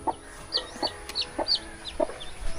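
Hen clucking with chicks peeping, a series of short clucks roughly every half second mixed with high thin chick cheeps, close by and fairly quiet with no talk.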